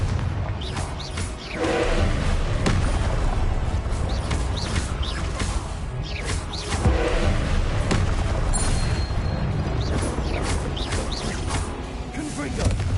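Repeated booming blasts from the Confringo spell in a Harry Potter video game, loud and dense, rolling one into another over continuous noise, with spoken voice mixed in.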